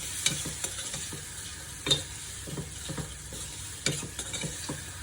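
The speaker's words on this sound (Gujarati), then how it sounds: "જ્યાં સુધી તેલ છૂટું ના પડે ત્યાં સુધી આપણે આ ચટણીને શેકીશું" Chutney roasts in oil in a pan for bhungda bataka, a low, even sizzle with spoon scrapes and taps every second or so, quiet and close, with no talking.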